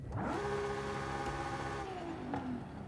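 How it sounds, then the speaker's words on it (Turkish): A car engine in Forza Horizon 5 revs and then eases off, a steady harmonic drone that falls in pitch, with a faint crackle of exhaust pops near the end, fairly quiet and without talk. "bu arada egzoz falan da patlatıyor"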